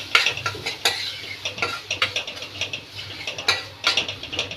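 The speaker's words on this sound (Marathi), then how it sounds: "हे चांगलं मिक्स करायचं आहे आणि छान भाजून घ्यायचं आहे" A spoon scrapes and stirs garam masala and coriander-cumin powder roasting in a pan with onions, giving repeated clinks and scrapes over a soft sizzle, close and without speech.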